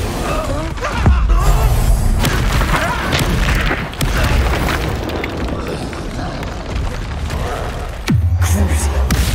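Heavy booming blasts from the Bombarda spell in Hogwarts Legacy, with loud low thumps near the start and again near the end, each dropping into a rumbling tail, over a busy battle-arena din with a voice speaking.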